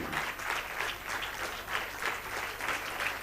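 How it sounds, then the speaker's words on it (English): An audience gives thundering applause and a standing ovation to welcome a guest speaker at a space-science jubilee celebration, a broad, continuous clapping from a large crowd that swells and ebbs slightly. "Let us welcome with a thundering applause Group Captain Angad Pratap."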